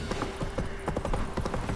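Roach, the horse in the Witcher 3 video game, trots with a steady clip-clop of hooves, the hoofbeats close and evenly spaced over a low background hum.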